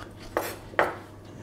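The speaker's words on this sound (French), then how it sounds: "On coupe après encore une fois dans la longueur." Two crisp knife strokes through sweet potato on a cutting board, each a short chop with a brief scrape, spaced about half a second apart, close and clear with no talking.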